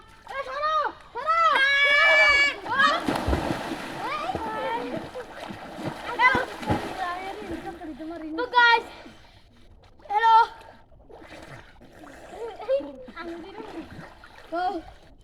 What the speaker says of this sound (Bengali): আমরা এখন একটু সাঁতার কাটবো